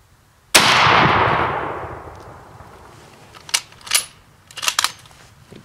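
A single loud, close gunshot from Romanian surplus 7.62 ammunition fired at a GE clothes dryer in a penetration test, with a long decaying echo and a few fainter knocks and clanks following.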